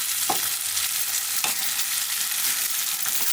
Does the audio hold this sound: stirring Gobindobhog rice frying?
yes